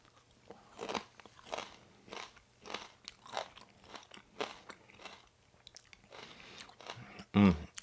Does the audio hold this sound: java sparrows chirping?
no